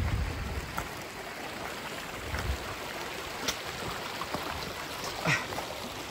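A stream flows down a narrow, steep-walled river gorge, making a steady broadband rush of water with faint trickling detail and no breaks across the whole stretch.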